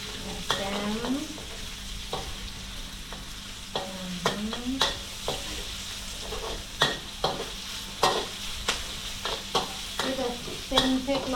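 Kale stems hiss and sizzle in a wok during a pad see ew cooking lesson in Chiang Mai, Thailand, with repeated sharp metal scrapes and clanks of stirring. A few brief voice sounds come in faintly beneath the sizzle.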